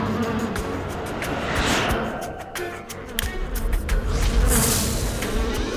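Cartoon bees buzzing in a steady, continuous drone that stays loud and close and swells slightly in places, with no speech over it.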